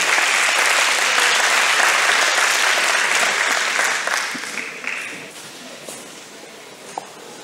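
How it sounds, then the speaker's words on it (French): An audience at a concert hall applauds drummers and percussionists of a French community orchestra, loud sustained clapping that gradually thins and fades toward the end, with a few scattered late claps. "Vous pouvez les applaudir"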